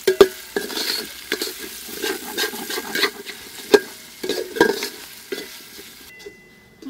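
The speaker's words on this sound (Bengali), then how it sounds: "মশলাটা খুব ভালো করে কষা হয়ে গেছে" Spice paste with sugar and a little water frying in a pan for Bengali vegetarian khichuri made with Gobindobhog rice, heard as a soft sizzle broken by repeated spoon scrapes and stirring clicks, close by and fading at the end.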